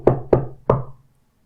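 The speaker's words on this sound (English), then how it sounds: "After midnight, there was a knock at the door." Three firm knocks on a door after midnight in a spooky story, close and resonant, with the last one slightly delayed, then silence.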